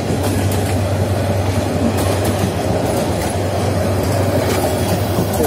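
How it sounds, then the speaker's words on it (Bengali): A local train runs through a railway station in Kasba, Brahmanbaria, with a steady loud rumble of wheels and cars that holds for the whole stretch, carrying a low drone and faint clicking of the rails. "এভাবে ট্রেনগুলো একের পর এক এখান থেকে চলে যায়।"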